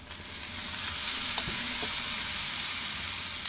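Spinach leaves hitting a hot frying pan of browned minced-meat mixture give a steady, close sizzle with broadband hissing that runs the whole time, with a few soft stirring knocks partway through.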